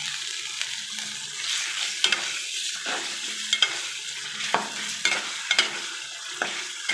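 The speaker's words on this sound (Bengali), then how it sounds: "টমেটো দিয়ে ভালো করে কষিয়ে নেব।" Tomatoes and spice masala fry in a pan with a continuous hiss as a spoon stirs them in regular scraping strokes, roughly one every second. The sound is close and moderately loud, with no voices.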